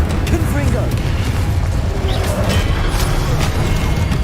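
Spell blasts in the Hogwarts Legacy video game boom and crash continuously, dense rumbling explosions and crackling impacts layered loudly over one another.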